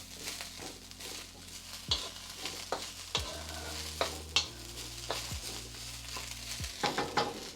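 Chicken piccata sizzling in a pan while being stirred, a steady frying hiss close by, broken by irregular scrapes and knocks of the utensil against the pan.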